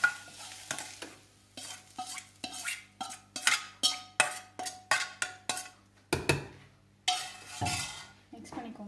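A spoon stirs paniyaram batter mixed with sautéed onions in a bowl, a run of rhythmic scraping strokes with ringing clinks against the bowl, steady and close, followed by a few heavier mixing scrapes.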